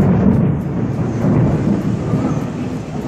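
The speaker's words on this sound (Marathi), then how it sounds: "काय आभाळ गडगडतंय पहा. पहा नाही ऐका, दिसणार नाही." Low, continuous thunder rumbling, steady and fairly loud throughout, with no voices.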